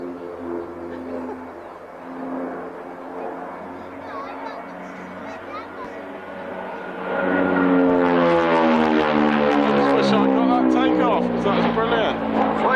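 An aircraft flying a display at the Mildenhall Airshow 2001, first a distant steady engine drone, then a sharply louder sweeping roar as it passes, with a commentator talking over it.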